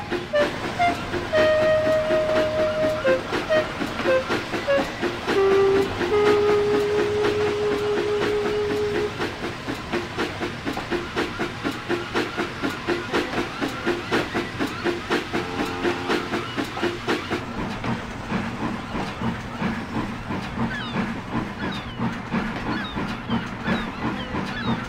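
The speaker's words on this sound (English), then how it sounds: "waiting while Percy shunted his train" A steam locomotive shunts wagons at a harbor siding, rattling and clanking steadily along with rhythmic clicking, a faint hiss of steam and a brief whistle-like tone early on.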